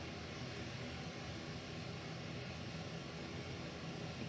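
Two aircraft flying side by side at an air show, trailing smoke over the runway, heard as a continuous broad engine roar at moderate distance with no break.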